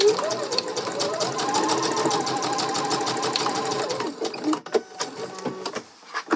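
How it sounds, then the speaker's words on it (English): Fast, steady whirring of a close sewing machine stitching bias tape to a dress armhole, running for about four seconds before stopping, followed by scattered clicks and fabric handling. "stitch all the way across so that the bias tape is now fully connected to the armhole"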